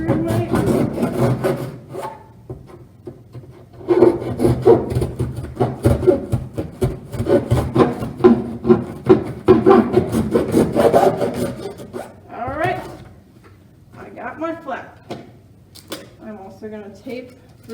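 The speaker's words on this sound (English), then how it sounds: "I'm just going to stab that into the box here and saw through my" A serrated knife saws through a cardboard box in repeated rasping strokes, close and loud, pausing briefly, while a person talks over parts of the cutting.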